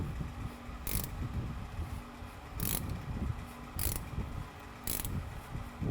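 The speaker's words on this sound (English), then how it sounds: "We're going to tighten that down with a 15mm wrench." A 15mm wrench tightens a brake line bracket bolt on a 2011 2WD Dodge Ram during a suspension lift install, giving four bursts of crisp ratcheting clicks at about one-second intervals over a steady low background hum.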